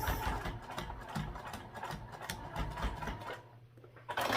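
A home sewing machine runs a steady mechanical top stitch through fabric, its motor and needle mechanism whirring continuously and fairly close, then briefly pausing before restarting near the end.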